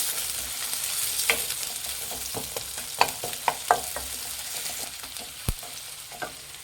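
Long-sliced onions crackle and sizzle in hot oil for a festive non-veg dish, a continuous close fry broken by several sharp spatula clinks and stirring scrapes, with no voices.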